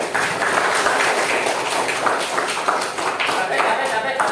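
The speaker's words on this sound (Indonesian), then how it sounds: "Tepuk tangan buat kalian." Children in a primary school classroom clap together in dense, continuous applause, loud and steady throughout with a few sharp taps standing out, voices mixed in underneath.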